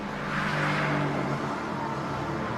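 Mercedes AMG GTR engine revving hard while sliding through tyre smoke, a loud sustained roar that peaks early and then eases slightly.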